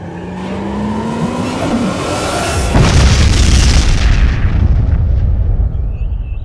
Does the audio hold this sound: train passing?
no